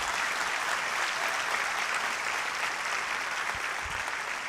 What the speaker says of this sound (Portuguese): Se é para o Senhor, aplaude com vontade.